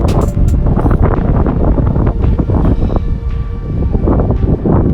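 Heavy wind buffets the microphone in a continuous low roar, with gusty rumbling throughout and no voices.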